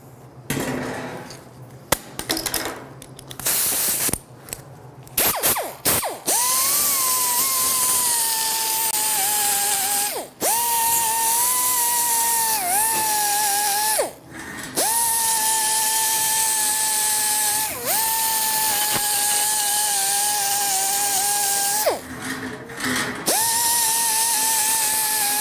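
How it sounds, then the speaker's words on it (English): Power grinder working over old rusty metal pieces, a loud steady whine running in long passes broken by brief pauses and bumps where the disc lifts off or shifts. "I'm going to grind up, clean up these pieces,"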